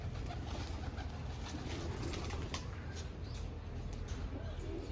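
Soft cooing of pigeons in a village amid a low constant rumble, with faint bird calls and light background noise.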